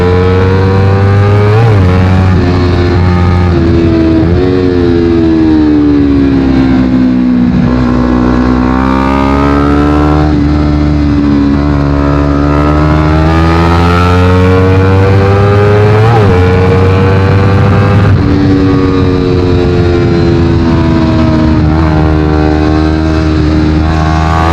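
A Honda CBR250RR fitted with a Yoshimura exhaust screams at high revs in Sport+ mode during a track day at Mijen circuit, loud and close throughout, with the engine pitch climbing and dipping through gear changes.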